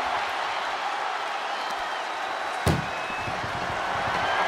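An ambulance door slams shut in WWE 2K24, one sharp bang over a constant roar of arena crowd noise.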